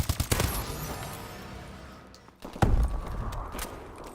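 Weapon fire in Call of Duty: Advanced Warfare on hardcore mode, sharp gunshots in short rapid bursts, a cluster of loud cracks at the start, a quieter stretch, then another heavy blast followed by scattered shots.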